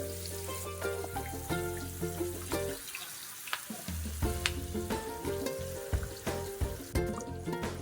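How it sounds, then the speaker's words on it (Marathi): Kingfish (surmai) pieces shallow fry on a tawa, a close crackling sizzle under frequent clinks and scrapes of a utensil, with a brief quieter gap midway and no talking. "तर आता आपल्याला ही सुरमई शॅलो फ्राय करून घ्यायची आहे"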